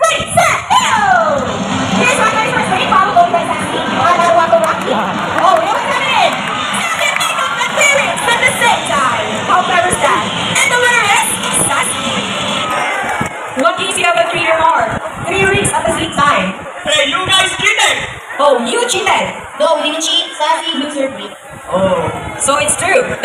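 Loud, sustained cheering and shouting from a crowd of children during a bird race at an all-star bird show, a busy wall of excited voices that thins a little toward the end.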